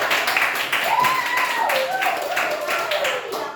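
A high-school class claps during a practice lesson, a short burst of fairly close hand claps mixed with a voice speaking over it.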